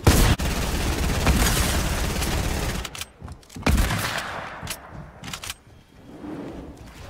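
Shotgun blasts in a Fortnite Battle Royale match, a dense, loud volley of overlapping shots for about three seconds, then a few scattered sharp bursts with gaps between them.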